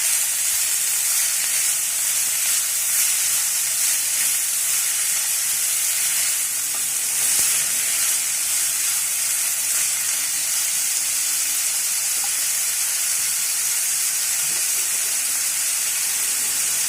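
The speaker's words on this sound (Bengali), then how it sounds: "এইভাবে সাদা তেলে ভেজে নিতে হবে।" Beetroot and carrot pieces fry in white oil, giving a constant, even sizzle that holds at the same level throughout with no talking.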